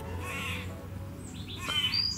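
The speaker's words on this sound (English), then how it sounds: "Do you hear it? That's a squirrel. That's not a bird." Squirrel chattering angrily at a dog in a backyard, a few harsh, bird-like calls rising above a quiet outdoor background.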